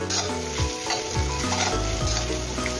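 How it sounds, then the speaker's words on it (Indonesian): Shallots and garlic with a little salt sautéing in a pan, giving a continuous loud sizzle broken by regular scraping strokes of a spatula stirring, close up and with no talking. "Lanjut kita tumis-tumis sampai bawang merah, bawang putihnya itu harum."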